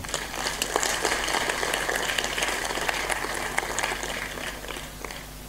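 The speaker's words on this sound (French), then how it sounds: "Applaudis pour le Seigneur." A church congregation applauds, a dense and fairly loud wash of clapping from many people that stays steady throughout and softens slightly near the end.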